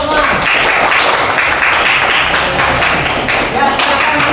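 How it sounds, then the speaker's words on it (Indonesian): Classroom students clapping together, a loud dense patter of many hands held steady for several seconds close by, with voices mixed in. "Oke, bagus sekali, tepuk tangan dulu semua."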